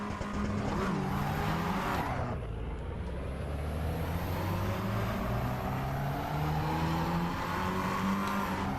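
Race car engine in Assetto Corsa EVO, a loud sustained drone that drops sharply on a gear change, then climbs steadily in pitch under acceleration, heard alone without talking.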